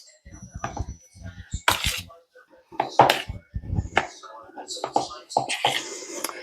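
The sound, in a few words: stirring Welsh rissole mixture in a bowl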